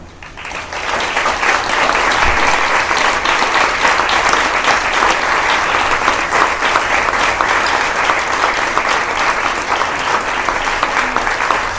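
An audience at a book presentation breaks into loud, sustained applause, a dense wash of clapping that holds steady for about eleven seconds.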